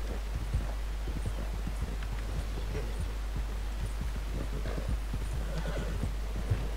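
A horse gallops with rapid, steady hoofbeats and neighs loudly in Red Dead Redemption 2, the clip-clop running close and continuous throughout with no talk over it.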